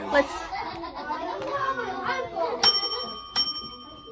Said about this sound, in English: thank you so much for quieting down when I ring my bell